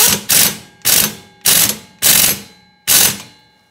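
A ratchet wrench tightening a bolt to torque, with five separate close, sharp ratcheting strokes at a steady pace and short pauses in between.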